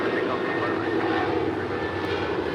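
An airliner takes off from runway 25 right at LAX with a loud, steady engine roar that holds strong and even throughout, heard close and continuous.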